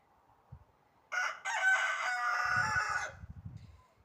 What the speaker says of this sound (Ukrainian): І півень співає, без нього ніяк